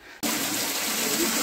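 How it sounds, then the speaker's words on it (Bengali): Water gushes from the outlet of a solar-powered pump in a remote village without electricity, starting abruptly and then pouring as a steady, loud, broadband rush. "এখন জলটা দেখাই কেমন পড়ছে।"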